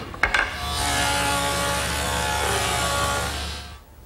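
A table saw cuts a groove into wood pieces, a short knock followed by a steady, loud whine as the blade runs through, then fading as the cut ends; no voices.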